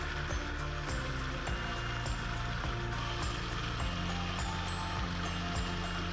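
Blender whirring through chocolate chia pudding, a loud continuous motor whine with rising and falling tones and repeated pitch steps as the speed climbs toward maximum, with no voices.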